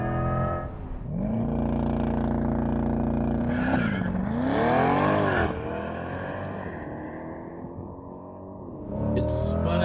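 A 2024 Chevrolet Corvette E-Ray accelerates hard in second gear, the engine note rising and surging through revs with loud, close roaring and a brief dip between pulls, and no talk over it.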